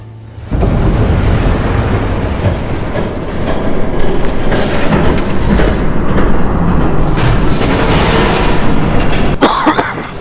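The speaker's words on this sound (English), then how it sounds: "There's a train coming." Train approaching in Batman: The Telltale Series, a loud continuous rumbling roar with rattling wheels building over several seconds, with a few sharp bursts near the end.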